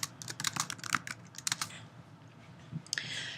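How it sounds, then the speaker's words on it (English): Quick bursts of keystrokes on a computer keyboard while an essay is typed, close and fairly quiet clicks in uneven clusters with short pauses between them. "and then I can type my essay here."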